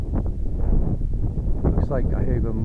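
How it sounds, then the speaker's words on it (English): Wind outdoors, around 10 mph, buffets a microphone during a model plane flight, a steady low rumble and gusts beneath someone talking. "Yeah, I'd say we've got a 10 mile an hour wind out here today."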